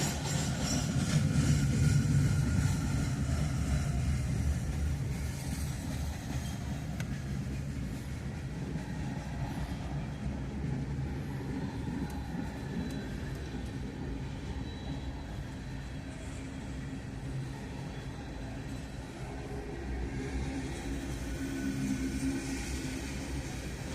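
A Norfolk Southern freight train hauling Conrail gondolas rolls past in a steady, loud rumble, with faint clickety-clack from the wheels and no talk.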